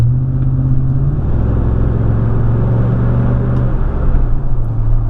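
Chevrolet Silverado pickup with a Super 10 cat-back exhaust pulling hard under acceleration, a deep steady droning rumble that rises gradually in pitch, loud and close from inside the cab with no talk.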